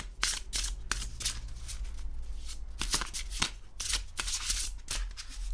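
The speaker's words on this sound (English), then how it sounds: "So let's give it the shuffle test." A deck of oracle cards being shuffled by hand at close range, crisp riffling and flicking bursts repeating in quick irregular rhythm over a faint low hum.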